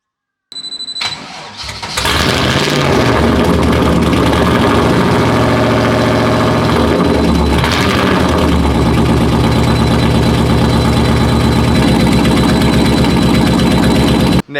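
An LS V8 swapped into a Toyota JZX drift car cranks and fires, then settles into a loud, rough, lumpy idle that runs on steadily and close by, with no voices.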